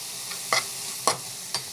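Vegetables sautéed with asafoetida in a pan, a constant close sizzle punctuated by three sharp scraping strokes of a spatula, with no one speaking.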